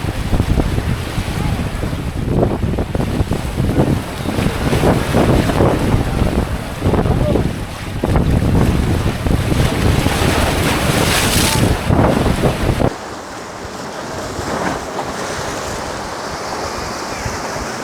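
Surf rolls and breaks heavily on Akilpur sea beach in Chittagong, with strong wind buffeting the microphone. The roar stays loud and continuous, then drops sharply to a softer wash of waves near the end.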